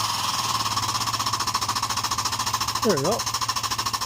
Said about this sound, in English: And that's how you put a new bushing into an excavator.